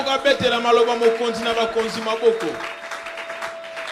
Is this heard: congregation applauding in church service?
yes